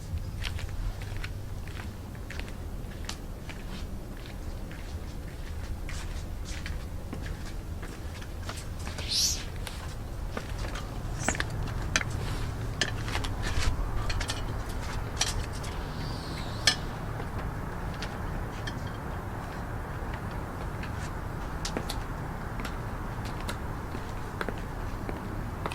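Steady clicking footsteps of 6.5-inch skinny-heeled Pleaser Eclipse leopard suede sling-back high heels, rhythmic and fairly close, over a low background rumble with no talking.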